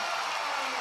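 A basketball arena crowd at a South Carolina versus UCLA game cheers and applauds in a dense, steady roar.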